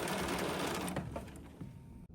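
A domestic sewing machine runs a quarter-inch seam with backstitching on a quilt block, a steady close mechanical whir that slows and cuts off just before the end.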